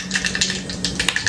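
Mustard seeds crackling in hot oil for a tempering over dal, with a quick run of small, sharp pops and ticks, close and fairly loud, and no talking.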